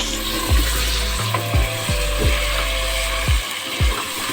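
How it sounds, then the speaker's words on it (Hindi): Mutton fries in a pot with salt, giving a steady sizzle throughout, broken by several loud knocks and scrapes of a spoon stirring against the pot. "बहुत ज़ोर शोर के साथ ये फ्राई हो रहा है।"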